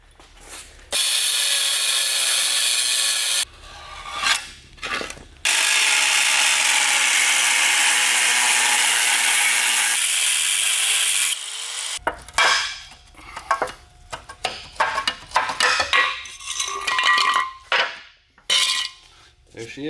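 Metal being cut out of a Nissan 240SX body for a drift modification, with long sustained bursts of loud, harsh cutting noise broken by short pauses, then choppy clatter and handling sounds.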